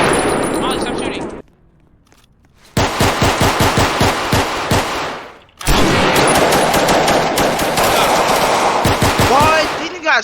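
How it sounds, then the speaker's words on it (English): Loud close bursts of rapid gunfire in repeated rattling volleys, split by two short silent gaps, with a voice briefly heard among the shots. "Stop shooting."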